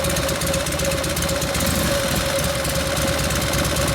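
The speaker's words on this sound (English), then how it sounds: "when you blip it, let it sit and idle and see if it'll die" A 1952 Harley-Davidson panhead engine with a Linkert carburetor idles steadily, a loud, close, throbbing mechanical rumble with an even knocking pulse and no speech over it.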